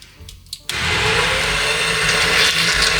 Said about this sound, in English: We're going to blend this on low speed until we get the consistency that we want